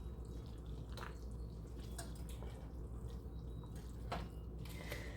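Heavy cream stirred into homemade mac and cheese, giving faint, wet squishing and dripping sounds with a few soft clicks of a spoon over a low steady background hum, no voices.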